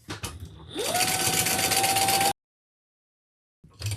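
A sewing machine runs a fast, steady stitch across the bottom of a handbag, starting after a few handling knocks, whirring loudly for over a second, then stopping dead before a brief rustle returns.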